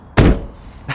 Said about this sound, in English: especially when passengers decide to close the door like this.